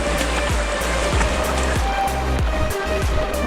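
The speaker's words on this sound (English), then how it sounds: "Current's so strong it's knocking me over." A strong, high river current rushes loudly past a gold prospector wading close by, a constant churning roar with irregular knocks and thuds of moving water and stones.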